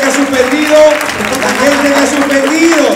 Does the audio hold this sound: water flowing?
no